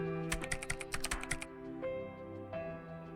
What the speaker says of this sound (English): She sure is clacking away on that keyboard.